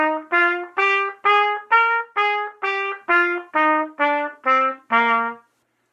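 Trumpet plays an ascending-then-descending Mixolydian scale with a flattened seventh, eleven clean, evenly spaced separate notes, bright and close, with no talking.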